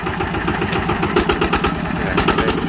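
Old Japanese Yanmar 11 hp walk-behind tractor with a crank-start engine, running steadily at a fast throttle with a dense mechanical chug that pulses evenly, close and loud throughout.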